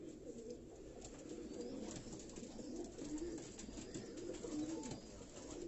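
Kamagar breed pigeons coo softly in a rooftop loft in Karachi, low repeated coos over a steady faint background hum, with no voices.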